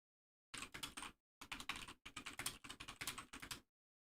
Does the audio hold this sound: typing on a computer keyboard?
yes